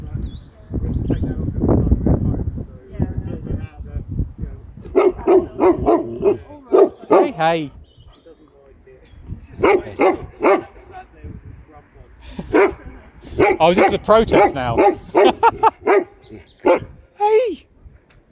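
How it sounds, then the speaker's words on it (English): Two walked dogs bark in short bursts outdoors, one yelping pup among them, close and loud, with someone talking over and between the barks and faint bird chirps behind. "What are you barking about?"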